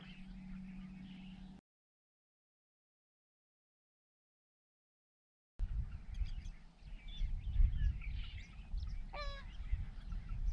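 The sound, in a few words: bird calling, sounds like a goose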